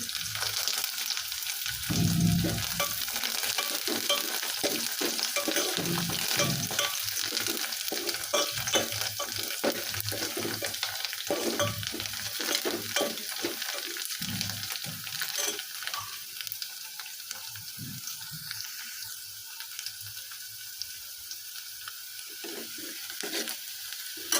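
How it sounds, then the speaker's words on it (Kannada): Onions fry in a pan until browned, giving a steady, close sizzling hiss that runs throughout, with intermittent soft scrapes and knocks of a spoon stirring them. "ಉಳ್ಳಾಗಡ್ಡಿ ಕೆಂಪಗಾಗೋವರೆಗೂ ನಾವು ಫ್ರೈ ಮಾಡ್ಕೋಬೇಕು"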